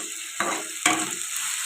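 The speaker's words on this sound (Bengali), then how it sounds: "এগুলোকে একটু নেড়ে চেড়ে কষে নেবো।" Tomato with green chili paste and ginger paste frying in a pan, a steady soft sizzle with two distinct scraping stir strokes, close and quiet.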